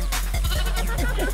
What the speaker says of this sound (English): we were chasing these baby goats around, and they're actually super fast